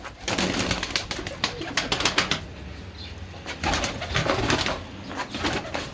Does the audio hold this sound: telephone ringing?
no